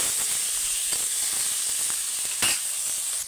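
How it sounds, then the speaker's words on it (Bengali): Chopped onion and green chilli frying in hot oil in a home kitchen, a steady close sizzle throughout with occasional stirring scrapes, loudest near the end. "পেঁয়াজ আর কাঁচা লঙ্কাটা ভালো করে ভেজে নিয়ে তোমাদেরকে আবার দেখাচ্ছি।"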